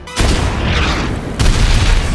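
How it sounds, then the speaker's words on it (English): A rocket launcher blast with a sharp onset and a heavy, sustained roar, then a second loud burst about a second later. "Unexpectedly, the explosion triggers the minefield countdown early."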